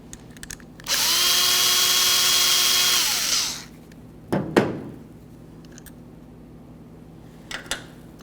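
On a 1998-2011 Ford Ranger truck bed, a power drill whirs steadily for about two and a half seconds to back out a Phillips head screw, then winds down, followed by a few clunks and taps close by.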